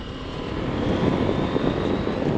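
A small car engine, likened to a little tractor, drones steadily while driving, a loud constant low rumble that swells slightly partway through with no talk over it.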